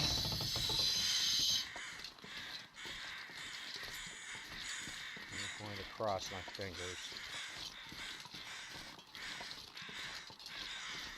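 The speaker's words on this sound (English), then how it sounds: "I only hear regular crows." Crows caw several times in a winter survival game, sharp calls repeating over soft ambient wind, while a player talks over them.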